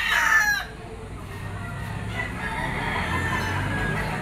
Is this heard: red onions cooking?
no